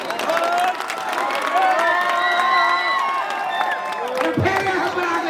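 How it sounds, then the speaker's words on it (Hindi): Loud crowd at a village event in Ara with cheering, whoops and shouting over scattered clapping, dense and close, with voices rising through the noise. "के लिए जोरों से तालियां।"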